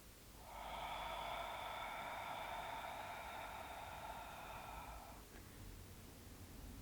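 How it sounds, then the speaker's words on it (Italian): A long, steady, breathy open-mouthed yoga exhale with a soft hissing rasp from a constricted throat, close and even, lasting several seconds before trailing off. "espiro con la bocca aperta, attivando leggermente i muscoli alla base della gola"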